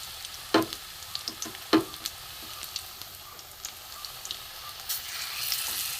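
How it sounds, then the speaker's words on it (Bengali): Papad frying in hot oil for a vegetarian papad curry, a steady crackling sizzle with a few sharp louder pops near the start, then lighter scattered crackles and a brief rise in hiss toward the end. "দেখুন এপিট ওপিট লাল করে ভাজা হয়ে গেছে।"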